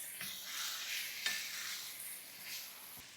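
Andhra style chicken being stirred and fried in a pan, a steady soft sizzle with scraping stirring strokes, close and continuous, no talking.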